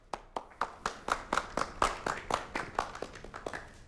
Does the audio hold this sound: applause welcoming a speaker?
yes